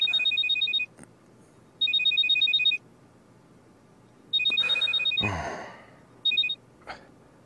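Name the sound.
telephone ringing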